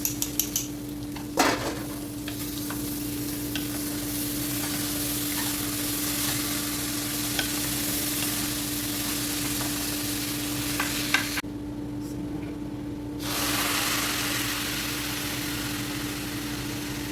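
Rice and vermicelli sizzle steadily in a pot as they are sautéed together, a continuous close frying hiss with occasional clinks and scrapes of stirring and a brief quieter gap partway through.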